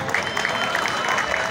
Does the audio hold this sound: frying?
no